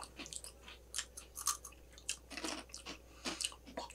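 Crunchy munching of a salty, shrimp-shaped Japanese snack, with repeated close bites and chewing crunches in an irregular rhythm, no talking.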